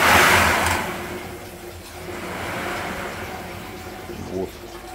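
Water splashed onto the stones inside an enclosed cast-iron sauna stove bursts into a loud, sudden hiss of steam that quickly fades into a softer, lingering sizzle, with some low talk nearby.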